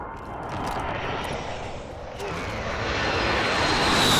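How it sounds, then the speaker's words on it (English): A helicopter touching down in a first-person shooter video game, a steady broadband rotor and engine roar that swells gradually louder over several seconds, with no talk over it. "Helicopter. Helicopter landed."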